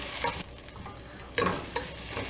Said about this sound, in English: Now I'll fry the onions for around 3 to 4 minutes till they turn translucent.